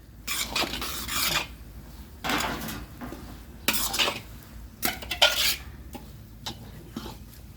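Dry fruits and flaxseed are tipped into a pan for panjeeri: several bursts of rattling, scraping and clinking of utensil against pan, close and irregular, with quieter gaps between and no talk.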